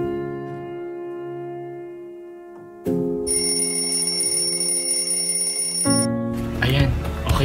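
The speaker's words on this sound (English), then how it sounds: "Set na lang talaga ako ng alarm bago matulog." An alarm clock rings with steady, bright electronic tones that change pattern partway through, loud and close, running unbroken across the clip with no voices over it.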